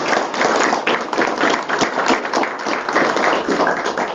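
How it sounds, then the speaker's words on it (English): Audience applause at a school board meeting honoring a student, a steady dense wash of many hands clapping throughout, fairly loud and close with no pauses. "let's give her a round of applause for being"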